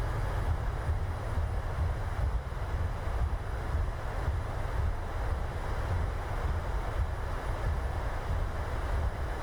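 Thrust reversers roaring on landing in a PMDG 737-800 in Microsoft Flight Simulator 2020, a steady loud low engine rumble with broadband rushing noise that holds evenly throughout, no voices.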